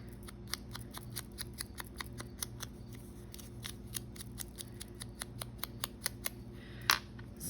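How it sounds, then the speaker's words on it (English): Scissors cut a small paper tag, giving a steady run of crisp, close snips in an even rhythm with no talking. "I'm just going to cut one just like that."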